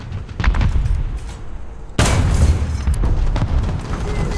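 A tank cannon fires in the War Thunder video game, a Pz.35t in a ground realistic battle: a sharp, loud boom hits at about two seconds and rings out over a constant rumble of engine and distant battlefield noise.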